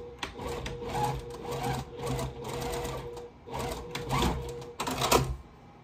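A sewing machine restitches a folded-over seam on a four-patch quilt block, sounding in several short close bursts of rapid stitching with brief stops between them.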